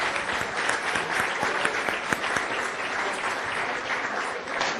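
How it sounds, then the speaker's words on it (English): An audience at a talk applauds volunteers, a dense, loud, sustained wave of clapping that fills the whole stretch without letting up. "Can we please give our volunteers a big round of applause?"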